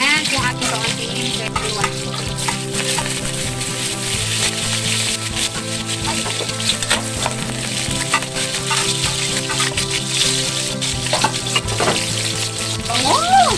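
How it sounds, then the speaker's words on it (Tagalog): Garlic and onion sizzle in hot oil in a pan for pancit canton guisado, a loud, continuous frying crackle with stirring scrapes, and a voice talks over it now and then. "Pag mainit na ang kawali mga katuna, lagyan natin ng oil. Bisa na natin mga katuna yung ating garlic, onion,"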